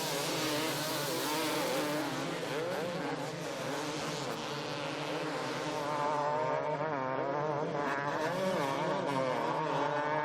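Motocross motorcycles, KTM and Husqvarna bikes, racing at an EMX2T race in Latvia, a continuous loud high-pitched engine whine rising and falling as the riders rev through the track, with several bikes overlapping.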